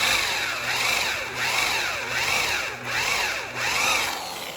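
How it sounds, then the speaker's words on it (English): A power drill bores out a stuck engine bolt, giving a steady grinding whine that swells and dips in a regular rhythm of about one cycle per second, close and continuous. "We just hold the drill lightly."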